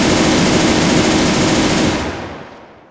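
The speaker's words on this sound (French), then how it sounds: "La MG elle va nous couvrir" Sustained machine gun fire in ArmA 3 Iron Front 1944, a dense, loud, rapid stream of shots that tails off and fades away over the last second.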